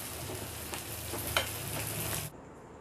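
Dried fish simmers and fries in gravy for karuvadu kuzhambu, a dense continuous sizzle and bubbling close by that runs for about two seconds with a single brief clink, then cuts off abruptly, with no voices.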